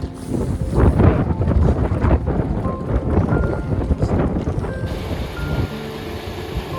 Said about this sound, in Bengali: এখানে এত হাওয়া দেয় এত হাওয়া দেয় দাঁড়ানো যায় না